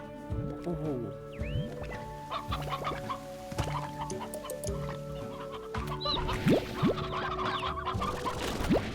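Hens cluck repeatedly in short, choppy calls in the video game Slime Rancher, over a busy background of game sound effects and music, with no one speaking.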